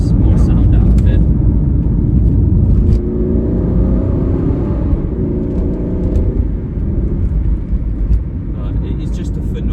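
A 2014 Aston Martin V8 Vantage N430 sports car's deep, loud engine roar reverberates continuously in a tunnel, echoing, with the exhaust note swelling and settling.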